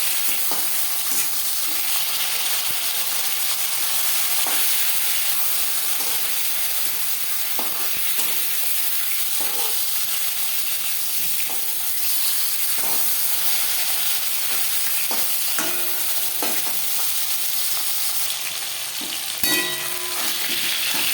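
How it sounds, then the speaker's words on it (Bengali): Pieces of silver carp fry in hot oil in a pan, a steady, loud, close sizzle and hiss throughout, with occasional light clinks and stirring sounds on top. "মাছ একটা সাইড ভাজা হয়ে গেলে অপর সাইডটা উল্টে দেবো"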